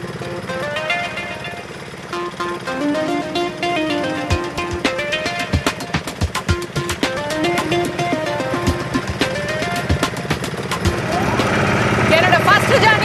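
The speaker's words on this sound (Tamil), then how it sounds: "இன்னைக்கு போட்ல ஏறின உடனேயே மோட்டரை ஸ்டார்ட் பண்ணிட்டு ஒரு பெரிய கம்பால போட்டை தள்ளி வலிக்கு கொண்டு வந்து எங்க போட் ரைடை ஸ்டார்ட் பண்ணிட்டோம்" The outboard motor of a fishing boat on Pulicat lagoon runs with a steady, throbbing chug and rapid pulsing beats, fairly loud and continuous throughout.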